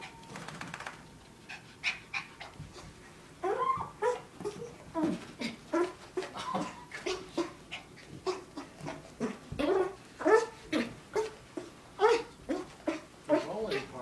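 Wet dog after a bath making repeated panting, whimpering huffs and small vocal noises at close range, with a person talking over and between them.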